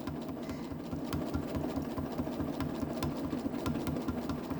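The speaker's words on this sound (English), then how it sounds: "If you listen to my machine, you can hear the rhythm is pretty much the same as I'm stitching." Sewing machine stitching quilt fabric at a slow, steady pace, producing an even repeating needle chatter over a low motor drone, uninterrupted and close.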